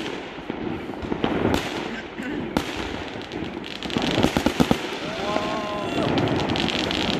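New Year's night fireworks burst over a square in Otradnoye, with a steady crackling roar broken by several sharp, loud bangs and a rapid cluster of reports near the end. Voices talk faintly beneath the barrage.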